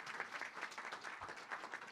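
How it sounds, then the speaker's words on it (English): Audience applause fills a mayoral business forum in Shelby County, a dense, steady wash of many hands clapping with no pauses and no voices standing out. "let's give the Georges another round of applause"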